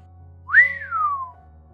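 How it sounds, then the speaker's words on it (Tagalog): One soft whistle rises quickly and then glides slowly downward, heard alone against a quiet background. "Mahinang sipol nito"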